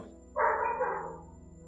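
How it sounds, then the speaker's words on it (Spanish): A dog in a nearby office barks once in a short, muffled burst that trails off, heard alone in an otherwise quiet room. "¿Escucho un perro?"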